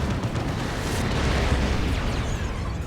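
A Plasma Destroyer firing in Warhammer 40,000: Dawn of War 2 battle, a sustained roaring blast with booming bursts, loud and continuous across the moment with no talk over it.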